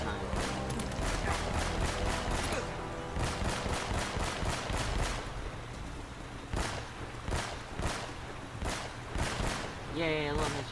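Enemy gunfire in Uncharted: Drake's Fortune (Nathan Drake Collection): rapid, evenly spaced automatic bursts in long runs, loud and continuous, with someone talking over the shooting.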